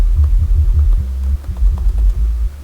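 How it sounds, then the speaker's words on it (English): A deep synthesized bass line from FL Studio pulses in a simple repeating rhythm, low and throbbing, playing alone without voices. "Yeah, a sound from GMS, a simple bass line."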